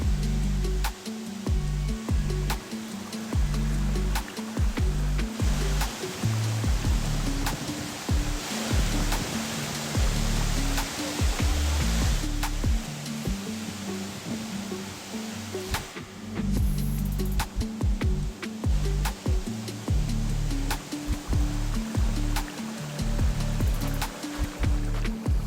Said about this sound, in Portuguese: Uma queda de 80 metros e uma ótima piscina para banho.